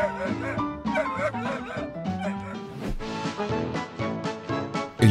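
A puppy yelps and whimpers in quick high-pitched cries over music, fairly loud and close.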